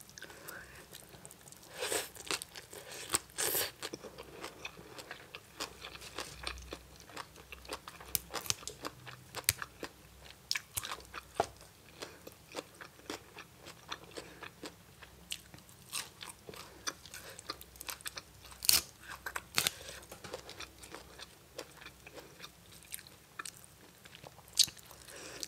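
Close-up crunching and chewing while someone eats spicy som tam with fermented fish, live shrimp, crispy pork rinds and cha-om. Repeated sharp bites and crackly crunches come in irregular bursts over quiet background.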